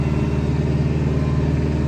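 A tractor's engine drones steadily and loud up close as it climbs and descends steep hilly ground through a ditch, a continuous mid-pitched rumble with no talking.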